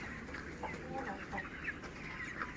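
Broiler chickens at 37 days old cluck softly in a farm shed, with scattered faint calls over a steady low background hum and no one talking.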